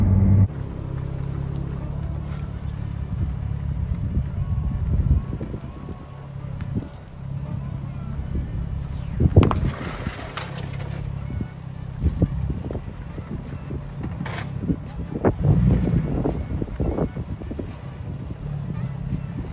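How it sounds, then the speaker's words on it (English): Outdoor wind buffeting a microphone beside a Nissan G35 car, a low rumbling roar that swells and gusts throughout, with occasional louder bursts and someone talking now and then. "Sorry, it's a little windy"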